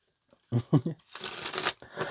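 Playing cards being shuffled close by: a few quick riffling bursts followed by a longer crisp riffle, then a short final snap.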